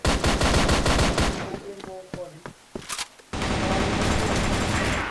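Rapid automatic gunfire from a competitive Crossfire clan-war match, dense bursts of loud shots filling the start and end with a quieter gap of scattered single shots and clicks between, a voice talking faintly under it.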